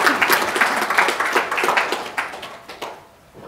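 A conference audience at a citizens' jury safety session claps for the speakers, a brisk burst of many hands that fades out over a few seconds.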